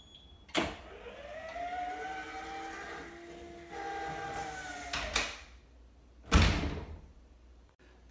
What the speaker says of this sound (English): Alexa, trigger close door.